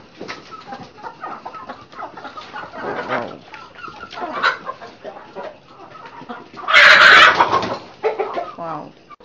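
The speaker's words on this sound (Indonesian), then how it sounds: "Oke, ayam Mars. Ini ayam jantan yang sakit" A sick rooster on a farm clucks and squawks while being caught, a steady run of close, restless calls with a loud burst of flapping and squawking near the end; people talk briefly in the background.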